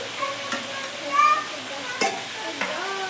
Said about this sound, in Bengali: বেশ পাঁচ মিনিট মতো চিকেনটা একটু ভাজিয়ে নেবো